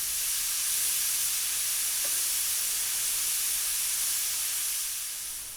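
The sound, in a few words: pressure cooker whistle releasing steam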